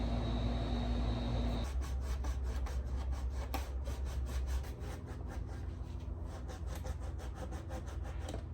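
Bondo filler on a Yamaha Jog scooter's front panel is sanded by hand, with steady rhythmic rasping strokes, close and fairly quiet, continuing without a break.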